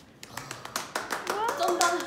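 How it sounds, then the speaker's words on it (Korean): A small group of art students claps for a classmate's grasshopper artwork in an Ewha Womans University art college room, sparse taps building into fuller, closer clapping over a couple of seconds, with young voices chattering underneath. "저의 메뚜기 작품. 박수."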